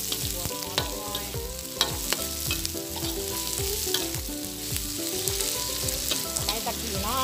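Onion frying and being stirred in a wok for Thai-style curry crab, a steady close sizzle with repeated scraping strokes of the spatula throughout, no voices.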